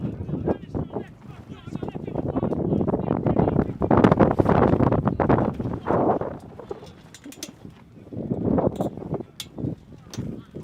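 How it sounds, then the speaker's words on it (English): Strong gusty wind roars and buffets the microphone at an outdoor futsal venue in Jamaica, a loud, steady rush that swells and dips over a commentator talking continuously. "very windy condition"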